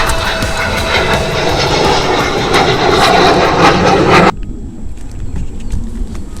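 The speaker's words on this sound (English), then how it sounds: "there's an airplane going off right now" An airplane taking off from an airport near an abandoned bridge, a loud steady roar of aircraft engines that drops off sharply into a quieter, distant hum.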